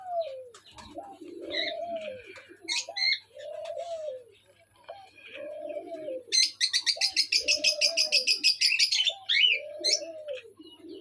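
Pet cockatiels chirp in short repeated calls, joined by soft cooing and a fast, rapid trill of high tweets midway, close and fairly loud with no talking.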